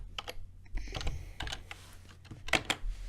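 Bursts of fast key presses on a computer keyboard, close and crisp, in irregular clusters with short pauses, fairly quiet overall.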